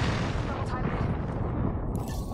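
Artillery fire booms in a military video game. A dense, continuous rumble of blasts and low thuds fills the short stretch, loud and unbroken.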